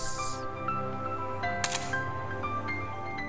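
A Canon A-1 35mm film SLR firing its shutter after the self-timer countdown: a single sharp mechanical click-clack, close and crisp, standing out briefly over a quiet room.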